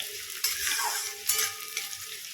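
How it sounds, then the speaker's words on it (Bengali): Onions fry in a pan while being stirred, giving a steady close sizzle with a few louder scraping bursts as the spatula moves. "পেঁয়াজটা হালকা ভাজা ভাজা হয়ে এসছে"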